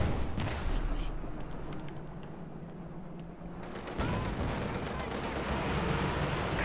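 A Katyusha rocket artillery barrage in Company of Heroes 2 pounds away with dense, rumbling booms and crackling blasts, easing briefly before a fresh heavy wave of impacts.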